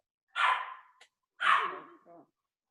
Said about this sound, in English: Probably gonna have to mute because of my dog.